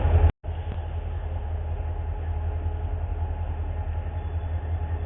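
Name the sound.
train passing through nearby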